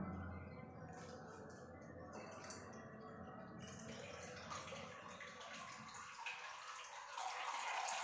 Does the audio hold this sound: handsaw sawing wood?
no